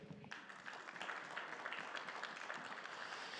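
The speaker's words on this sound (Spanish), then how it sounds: "¿Cuántos le dan una ofrenda de palmas al Rey?" A church congregation claps in faint, sustained applause, a dense wash of hand claps that fills the whole stretch at low volume, heard from a distance.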